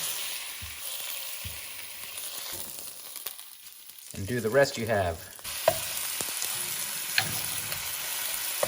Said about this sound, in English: Once that has a good sear on it, usually a couple minutes each side